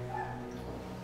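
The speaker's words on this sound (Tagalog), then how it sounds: "May igay nga lang ang aso ng kapitbahay." A neighbour's dog heard from inside a small house, giving a brief whimpering yip over a steady low hum, one short burst rather than repeated barks.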